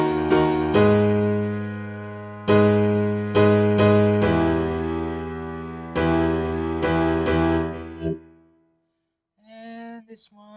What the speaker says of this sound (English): No, it's a piano. Sounds like this.